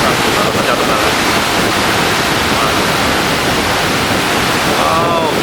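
Athirappilly waterfall pours and crashes with frothing water in a dense, continuous roar heard up close, with wind buffeting and a voice talking faintly underneath.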